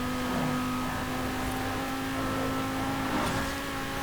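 A 1995 BMW M5 in Forza Horizon 4 pulls hard at speed. Its engine holds a steady, loud, droning tone with a faint wind-like hiss, and no talking can be heard over it.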